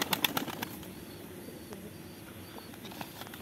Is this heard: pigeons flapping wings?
yes